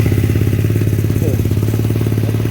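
A Honda Ruckus scooter engine idling close by in a garage, a loud, steady, rapid chugging putter with a low rhythmic pulse that holds even throughout.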